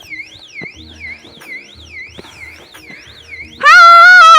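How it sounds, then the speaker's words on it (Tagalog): A loud electronic alarm wails through the surroundings in a repeating rising-and-falling siren pattern, with scattered soft background noises under it, then jumps suddenly to a much louder, harsher steady blare for the final second. "Nagtahol na naman yung alarm."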